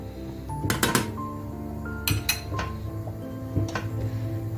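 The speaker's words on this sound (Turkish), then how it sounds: "Yağımız eriyene kadar iyice karıştırıyoruz." Butter being stirred as it melts in a pan, with sharp metallic clinks of a utensil against the pan in a few clusters over a low steady background hum.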